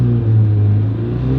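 A 1989 turbocharged hatchback's engine revs in a steady, loud, close-up drone with a deep rumbling tone that holds evenly throughout, no voices over it.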